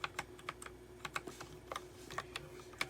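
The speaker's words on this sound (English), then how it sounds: "I got round switches, and it sounds beautiful" Keys clack in quick irregular bursts on a DIERYA x TMKB T68 magnetic-switch mechanical gaming keyboard with round keycaps, close and crisp against a faint background hum, no talking.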